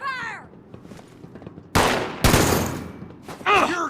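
Gunfire in the game Fallout 76: two loud bursts of shots crack out back to back, with shouted voices before and after them.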